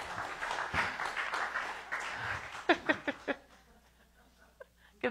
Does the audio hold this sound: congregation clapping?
yes